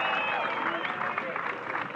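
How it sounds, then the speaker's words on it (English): Crowd cheering and applauding at the Red Bull King of the Air 2025 big air kitesurfing final, a steady wash of clapping and cheers beneath an announcer's amplified voice. "give a big round of applause for yourself"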